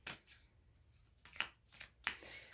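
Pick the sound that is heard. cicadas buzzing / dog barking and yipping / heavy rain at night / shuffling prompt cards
shuffling prompt cards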